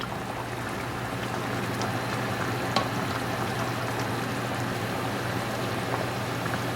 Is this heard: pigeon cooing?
no